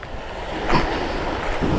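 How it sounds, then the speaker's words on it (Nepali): The Balason river flows past in a brief, steady watery rush mixed with wind buffeting the microphone, loud and close. "परबाट बग्दै आएको बालासन नदी हो यो"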